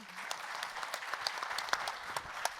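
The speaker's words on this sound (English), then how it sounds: "A big round of applause to everybody here." Audience at a breakfast conference briefing on out-of-home advertising gives a round of applause, scattered distinct claps over a soft steady patter, fairly quiet and distant.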